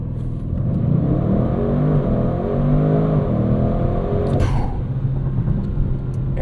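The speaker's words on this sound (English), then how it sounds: "hold the accelerator and it'll tell you when your launch control is ready" A 2025 Audi RS6 Avant with a twin-turbo V8 held on launch control, its engine a steady loud rumbling drone throughout with a brief whooshing surge near the end, no talk over it.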